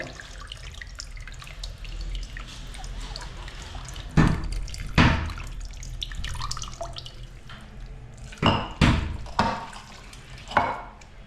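Water pouring and dripping into a pot of tilapia fish curry, with several splashy bursts of liquid that stand out over a low background hum at close range.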